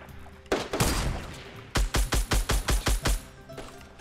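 Fortnite gunfire in a duo-versus-squad match: a single loud shot, then a rapid string of about eight evenly spaced close shots, with no talk over them.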